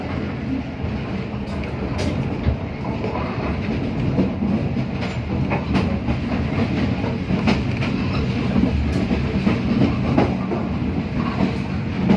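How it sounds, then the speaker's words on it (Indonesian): A Cibatu–Bandung passenger train rolls along the rails near Nagreg, a continuous loud rumble with rhythmic clickety-clack of wheels over joints, heard close and alone without voices. "Keretanya masuk jalur belok karena akan bersilang dengan kereta api Lodaya."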